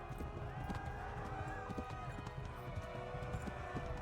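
Hooves of a horse clip-clopping steadily at a walk or trot in the medieval game Kingdom Come: Deliverance, a continuous rhythmic beat set against game music and ambience.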